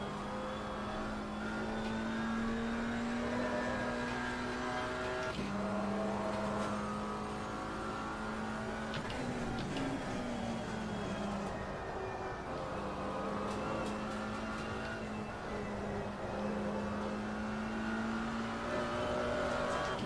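Aston Martin and Maserati GT4 race cars in an ACR GT4 league race at Spa, engines droning steadily with pitch rising through gears and dropping on shifts, a loud continuous whine with brief tire noise.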